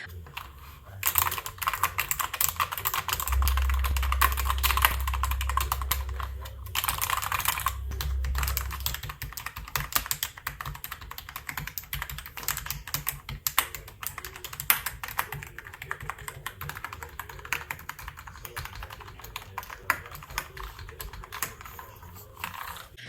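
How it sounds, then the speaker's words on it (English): Continuous rapid clicking of an NPET K10 wired mechanical gaming keyboard as someone types steadily, close up, with a low hum underneath for a few seconds. "This is a clicking keyboard, so it is not soft, so you can hear the clicking noise when you're typing"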